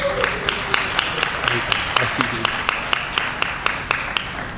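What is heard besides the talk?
round of applause for alders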